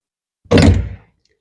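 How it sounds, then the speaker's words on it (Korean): A fire escape door in a large hospital is pushed open toward the vestibule, giving one heavy, close thunk with a short rattle that dies away within half a second. "요 유도등을 따라서 문을 열면"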